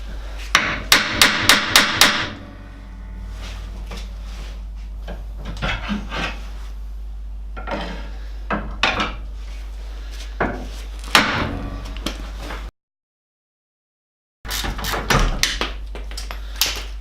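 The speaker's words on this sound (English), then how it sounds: "using a lever bar or a crowbar, you can get underneath the bottom arm and hook it underneath the subframe" Sharp metallic hammering and knocking on a Classic Mini's suspension arm during wheel bearing work: rapid bursts of loud strikes, then scattered single knocks and scraping, close by, with a brief silent gap before another volley.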